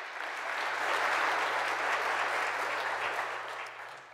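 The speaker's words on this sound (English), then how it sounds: "Give the Lord a round of applause again." A church congregation claps in a steady wash of applause during a Sunday worship service. The clapping swells and holds for a few seconds, then fades slightly toward the end, with a low hum underneath.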